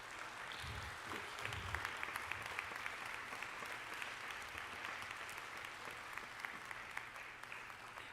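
Audience at a Shabbat Renewal gathering clapping for a recognized guest: sustained, fairly faint applause from a room full of people, steady throughout with a few sharper individual claps.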